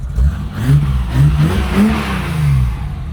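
A Volkswagen Golf VR6 engine revs in several short bursts, its low muffled tone rising and falling, close by and with no talking.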